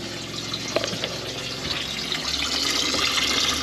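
A newly installed water pump in a vintage motorhome runs as water flows steadily from the tap, a continuous rushing and splashing that grows slightly louder and fuller toward the end, close by with no talking.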